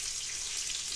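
Coconut shrimp frying in a pan, a continuous bright hiss of sizzling oil, steady and close, with no other sounds.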